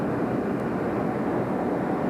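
A tow plane's engine drones steadily close by as a glider releases from the tow over Mount Washington, a continuous low roar with no talk.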